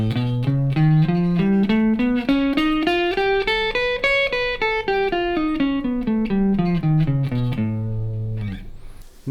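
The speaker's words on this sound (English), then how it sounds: "The sound of a dominant 7th chord with an augmented 5th comes from the whole tone scale, which sounds like this." A whole tone scale climbs and then descends in quick, even steps over a sustained dominant seventh chord with an augmented fifth, bright and close, ending on a held low tone with a short noisy burst at the end.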